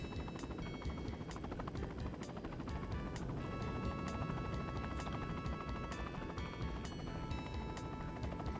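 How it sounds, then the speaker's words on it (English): A helicopter in the Windows 3.1 video game Aviation Adventure drones with a steady rotor whine and buzz, accompanied by repeated sharp clicks and electronic tones throughout, constant and loud with no talking. "Okay, helicopters."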